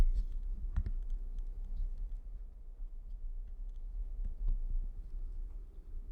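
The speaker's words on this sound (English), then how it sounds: "turn the microphone on the stand up and down" Faint plastic clicks and small knocks from a Fifine AMPLIGAME A6V USB microphone being moved up and down on its stand, scattered over a low background rumble.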